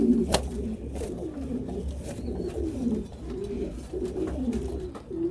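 Pigeons coo in a loft, repeated soft rolling coos close by in an uneven rhythm, with a faint background hum and occasional light rustles.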